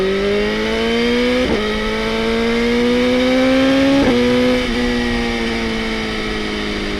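A 2020 BMW S1000RR motorcycle engine drones loud and close while riding, its pitch climbing steadily with brief dips at gear shifts, continuous and without voices.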